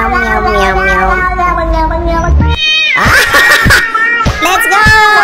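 A voice imitates a cat with a rapid string of drawn-out, whiny meows, loud and close, running straight into a brief pause and then more strained, caterwaul-like yowls.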